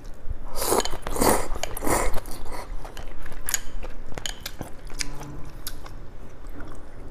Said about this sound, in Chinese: 再嗦口粉了